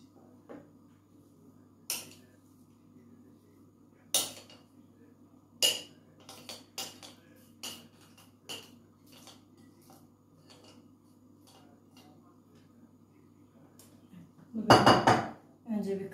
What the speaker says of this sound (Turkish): Şimdi malzememi streçimin üzerine boşaltıyorum.